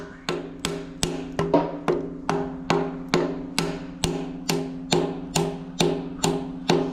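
Steady, evenly spaced taps of a dead blow hammer driving a speedy sleeve onto a Cummins crankshaft, about two per second, each a sharp metal knock with a short ringing tail, over a faint steady hum.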